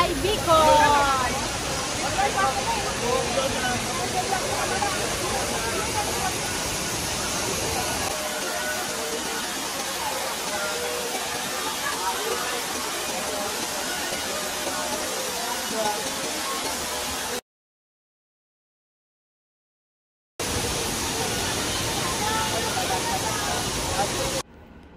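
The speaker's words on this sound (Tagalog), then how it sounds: "We are in Vera Falls, guys. Vera Falls, Albay, Bicol" Vera Falls in Albay, Bicol, a steady broadband roar of falling water, loud and close, with a short silent gap near the end and voices faintly under it.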